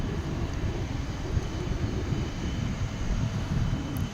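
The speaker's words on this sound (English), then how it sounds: "A220-100. Yeah, this is the one that makes that noise when it takes off." An Airbus A220-100 takes off at DFW International Airport, producing a steady, close, rumbling jet roar that stays even the whole time, with no speech.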